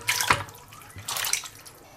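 Water pours into a cooking pot on a home kitchen stove for blanching chicken, two short splashing bursts close by with no talking.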